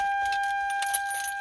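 Keys jangle close up as they are fitted into the ignition of a first-generation Toyota Tacoma, a bright metallic rattle over a steady electronic chime.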